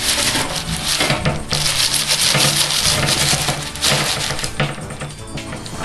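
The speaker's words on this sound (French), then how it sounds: "vous obtenez une pizza de forme circulaire que je m'apprête à découper sur vos yeux ébahis" A freshly baked round homemade pizza is sliced, with close, rough rasping and scraping strokes of a cutter against the crust and board, dense and continuous with a few sharper crunches.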